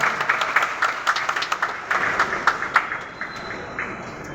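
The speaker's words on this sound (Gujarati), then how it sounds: "આપણે તાળીઓથી અભિનંદન આપ્યું" An audience applauds at a student award ceremony in Porbandar, a dense wash of many hands clapping at a steady pace that thins and fades toward the end.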